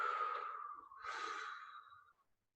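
A single long, deep breath, inhaled and then exhaled slowly and close up, alone and quiet, during a Pilates workout.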